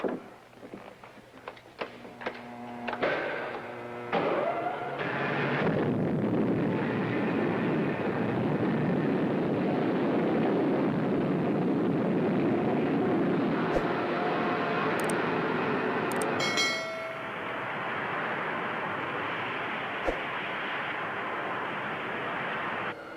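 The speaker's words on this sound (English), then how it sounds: "Okay, gang, secure for blastoff." A loud rocket blastoff roar builds quickly and holds steady for about twenty seconds, with a few faint clicks near the end.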